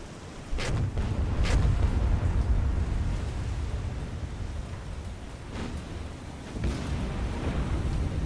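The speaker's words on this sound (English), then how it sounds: "Caledon struck by a torpedo" Torpedo hitting the ship Caledon in the naval game War on the Sea, with a deep rumbling blast and heavy low roar that swells, settles, then surges again, loud and without voices.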